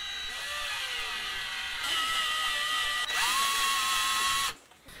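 A power drill or driver whirs in sustained bursts with pitch changes as bolts are driven to attach the neck of a Pango Music PDR-057 guitar kit, close and loud, stopping abruptly near the end.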